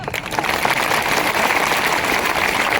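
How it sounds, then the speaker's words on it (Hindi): Applause from party workers at a political gathering of polling booth volunteers in Guna, a dense, continuous crowd clapping held at steady loudness throughout, with no talking over it. "अभी भी तालियां बहुत कम बजी।"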